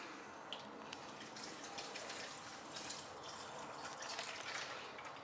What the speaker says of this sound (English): Now, I'm going to add a bit of water to it.